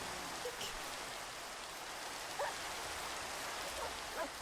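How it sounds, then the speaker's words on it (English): Steady Minecraft rain hisses evenly throughout, a soft continuous patter with a few faint sharper drops, no talking. "Oh, it's raining though."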